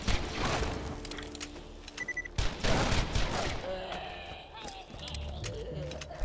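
Video game gunfire from Borderlands 2 in the Tiny Tina's Assault on Dragon Keep DLC. Rapid bursts of shots and mechanical clatter play over game effects, and a player talks over the action.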